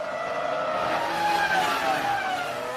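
Formula 1 cars at the start of the 2005 German Grand Prix, a dense, loud roar of many high-revving engines packed together into the first corner, steady and continuous with no talk.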